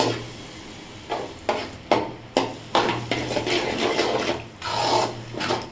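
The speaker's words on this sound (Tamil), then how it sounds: "நீங்கள் நல்லா முட்டையை ஊற்றி நல்லா வதக்கிக்கோங்க" Beaten eggs being sautéed in a pan for egg Maggi, a loud close scraping and rasping of a spatula stirring in bursts over a low sizzle, with no voices.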